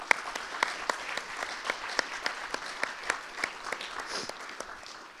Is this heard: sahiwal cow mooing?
no